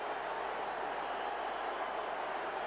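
A rugby stadium crowd applauds a try in a steady, dense wash of clapping and cheering, distant and even throughout, with no single voice standing out.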